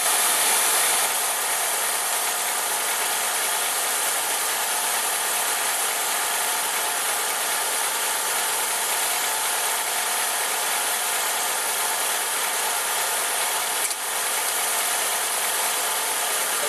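A car engine idling with the hood open while automatic transmission fluid is checked, a steady close mechanical whir and hum with a faint rattling texture, unbroken and even for the whole stretch with no voices.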